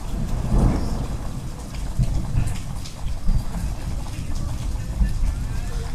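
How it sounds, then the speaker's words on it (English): A thunderstorm brings steady, heavy rain pattering on surfaces while rolling rumbles of thunder swell and fade, loud and continuous across the whole stretch. "That's the thunder."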